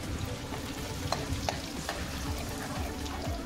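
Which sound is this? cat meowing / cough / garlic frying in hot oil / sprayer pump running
garlic frying in hot oil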